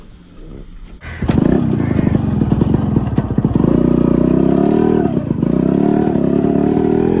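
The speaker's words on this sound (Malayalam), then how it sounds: "വലിയൊരു ഫോഴ്സ് യൂസ് ചെയ്ത് തന്നെ വളരെ സ്മൂത്തായിട്ട് ഈ വാഹനം സ്റ്റാർട്ട് ചെയ്യാൻ കഴിയും." A restored 1994 Yamaha RX-100 with a 98 cc two-stroke engine kicks into life after a second, then settles into a loud, close, steady idle with a rough, rapid putter and occasional throttle blips.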